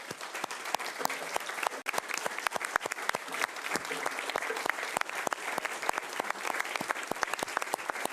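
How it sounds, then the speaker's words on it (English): An audience at a city metro council meeting applauds steadily, dense clapping of many hands sustained throughout at moderate volume, with no talking over it. "give them a resounding applause"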